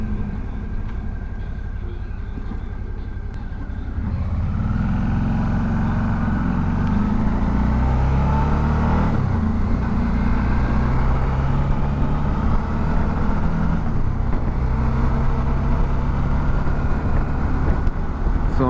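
A Suzuki V-Strom 650 motorcycle fitted with a dark smoke windshield rides along a road, its engine a steady, loud low drone mixed with wind rush, rising slightly after the first few seconds.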